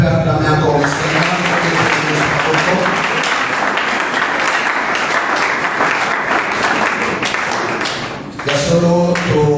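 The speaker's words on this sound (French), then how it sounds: "Est-ce qu'on peut acclamer encore le Seigneur?" A church congregation at a conference bursts into loud, sustained applause that carries steadily for several seconds, dipping briefly near the end before swelling again, with a few voices mixed into the clapping.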